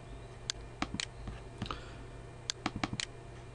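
Computer mouse clicks while a level editor is used on a computer, a scattering of short, sharp, close clicks heard alone over a faint steady hum.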